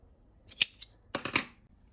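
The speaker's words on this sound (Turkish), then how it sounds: "Bir zincirle sabitliyorum ve ipimi kesiyorum." Scissors snip crochet yarn up close: two quiet, crisp cuts, a short pause, then a quick cluster of blade clicks and another snip, with no voices.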